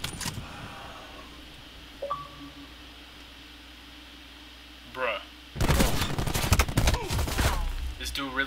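Sniper rifle fire in Black Ops 4, a burst of loud, sharp reports arriving suddenly after a quiet stretch, closely spaced and harsh, with a little game noise before it.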